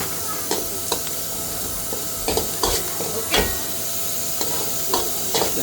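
Manchurian gravy cooking in a pan as plain household chilli is stirred in, a steady sizzle under a series of sharp scraping stir strokes, close and fairly loud.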